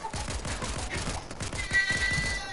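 Rapid submachine gun fire from a video game, dense repeated bursts of close shots running continuously through the clip with a faint electronic tone.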